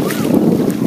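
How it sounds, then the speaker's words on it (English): Water splashing at a beach, a short burst of rushing, sloshing wash heard close and loud, with strong wind buffeting the microphone throughout. "That was water."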